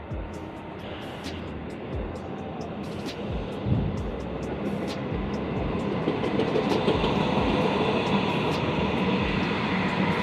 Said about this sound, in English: the trains are right there